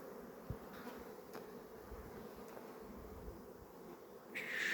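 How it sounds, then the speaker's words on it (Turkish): Honeybees from a hive weakened by varroa damage hum in a faint, steady drone, with a few soft knocks and a brief rise in noise at the end. "Arılar çalışmaya başladı gayet güzel."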